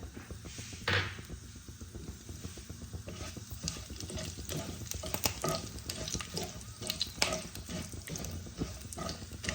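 Bay leaves, whole dried red chillies, cinnamon, cloves and nigella seeds fry in hot oil, a continuous crackling sizzle with frequent sharp pops and spatters, close and fairly loud throughout.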